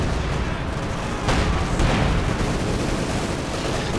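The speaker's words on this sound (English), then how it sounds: "A fragmentation. No, strafing run." A strafing run attack in a real-time strategy video game match, heard as a dense, continuous roar of rapid gunfire and booming impacts, with sharper bursts standing out partway through, loud and sustained.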